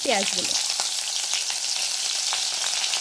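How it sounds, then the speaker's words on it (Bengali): Chopped onions fry in hot oil with whole cumin, bay leaf and dried chili, giving a loud, steady, close sizzle with a few stirring scrapes and a brief clatter at the start. "পেঁয়াজগুলোকে আমি ভালো করে ভেজে নেব।"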